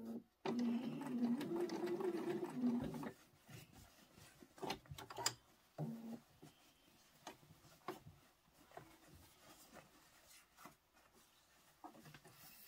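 A sewing machine runs steadily for about three seconds while stitching a carry-all pencil case, then gives a short burst again after some light handling and rustling of the fabric.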